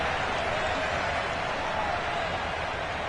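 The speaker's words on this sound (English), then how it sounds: "Plenty of shouts from this crowd as they watch the replay" A football stadium crowd watching a replay: a constant loud roar of shouts and cheers with no break.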